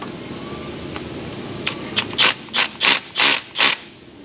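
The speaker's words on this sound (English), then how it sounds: "So let's go ahead and start pulling fasteners here." A ratchet spins out fasteners on a Duramax 6.6 diesel valve cover, a run of five or six quick, loud ratcheting bursts close up in a quiet shop, starting after a short pause.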